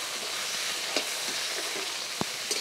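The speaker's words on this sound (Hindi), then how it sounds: "अब हम आलू डाल देते हैं। आलू को हम थोड़ी देर भूनेंगे।" Potatoes frying in a pan after onions in an Indian village kitchen, a soft continuous sizzle with a few faint clicks and taps, fairly quiet.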